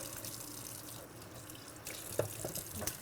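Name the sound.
water running from a tap while rinsing instruments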